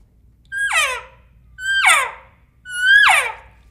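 A person imitates an elk call with the lips shaped as if saying "EA". Three bright, high calls rise briefly and then slide downward. They are evenly spaced about a second apart and sound close and clear.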